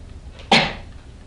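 A single short sneeze bursts out in a classroom, sharp and breathy, rising out of a quiet room and fading within a fraction of a second.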